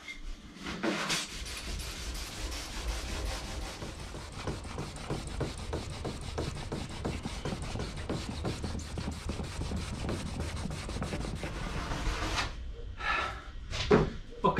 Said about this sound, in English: I'm going to use some Scotch-Brite. Now I need to score the epoxy here on the gunnels